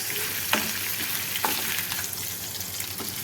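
Potatoes and crisp roasted peanuts frying in a pan for sago khichdi, a steady dense sizzle with a few sharp scrapes of stirring, close and alone.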